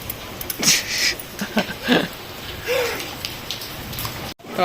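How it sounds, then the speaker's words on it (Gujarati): Heavy rain falls during a summer downpour, a steady wash of drops under bursts of nearby talk and voices. "કેમ કે હવે વરસાદ વધી ગયો"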